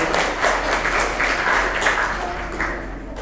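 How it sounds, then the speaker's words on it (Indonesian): Steady, dense applause from an audience at an Indonesian digital literacy seminar, many hands clapping together at an even level throughout, with no voices on top. "Kita beri aplaus untuk Bapak Abdul Ghafur"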